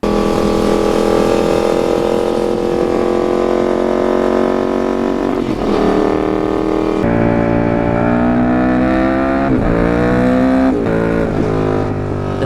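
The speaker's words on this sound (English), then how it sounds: "how great the engine sounded without having to fight all the wind noise" A motorcycle engine hums loudly and steadily while riding, its pitch rising and falling through gear shifts and throttle changes.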